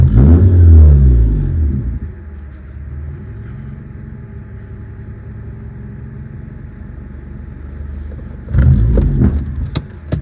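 A 1997 JDM Honda Accord wagon, warmed up with its idle freshly adjusted, revs loudly at first, drops to a steady low idle, then revs again near the end, heard close up with no talking.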